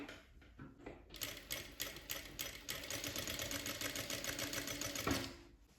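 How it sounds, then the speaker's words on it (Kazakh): A sewing machine stitches fabric for a turban in quick rhythmic bursts of clattering needle strokes, starting after a few clicks and stopping with a final thunk; faint and close, without talk. "Тек мына жерді ғана тігеміз, қосып бірге."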